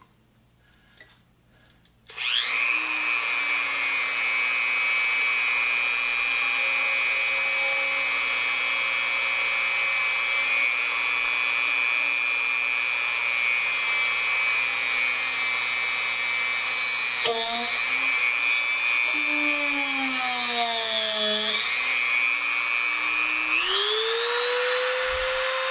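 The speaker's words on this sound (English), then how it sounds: "I'm going to spin the drill bit at a very high rate of speed." After a brief quiet start, a small drill bit whirs up to a high, steady whine while drilling into a watch band, holding its pitch and then dipping and rising as the load changes.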